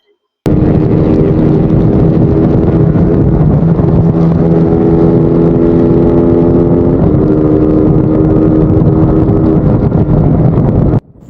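Small motorcycles race in Mindanao, a Rusi Flash against a Honda Wave, Honda XRM and Suzuki Raider FI, making a loud, sustained engine drone with wind buffeting that holds for about ten seconds before cutting off abruptly.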